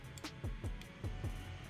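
At its second speed, a Funcooler X65 phone cooler fan makes a quiet, steady whirring hiss with regular soft pulsing thumps, heard alone and fairly close.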